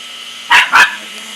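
A dog barks at a cat twice in quick succession, loud and close, over a steady background hum.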